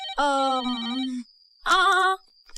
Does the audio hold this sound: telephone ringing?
yes